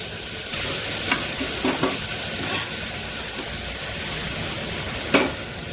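Onion, chilli and two medium tomatoes sautéing in a pan, a steady sizzle and hiss with occasional stirring scrapes and clinks, close and continuous without speech.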